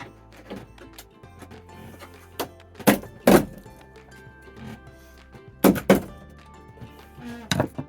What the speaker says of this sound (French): Donc on va tout dessertir avec deux tournevis et un peu de prudence pour pas tout casser